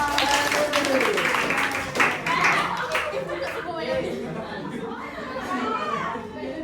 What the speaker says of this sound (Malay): Okey, tepuk tangan dia